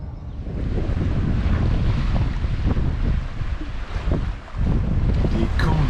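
Strong following wind on a sailboat at sea, loud blustery roar buffeting the microphone with sloshing waves underneath, continuous throughout with a brief dip near the end.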